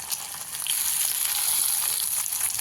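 Tomatoes and masala fry in a pan for chicken sukka, giving off a loud, continuous, hissing sizzle with no pause.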